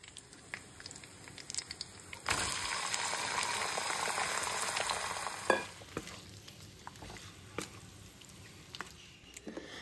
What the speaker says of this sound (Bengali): এরপর এটাকে নিয়ে সোজা ঢেলে দেব কড়াইতে